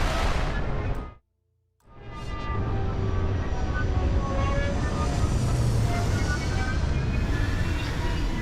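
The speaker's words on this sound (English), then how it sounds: "Landing struts primed. Retro's firing." Retro thrusters fire with a loud, steady roaring rush during a spaceship landing in Starfield, cutting out briefly to a near-silent gap before the powerful thrust roar resumes and holds to the end.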